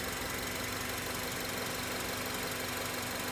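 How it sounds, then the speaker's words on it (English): A 2004 Honda Element's engine idles with a steady, even hum and faint mechanical ticking, close and unbroken throughout. "Here's an engine."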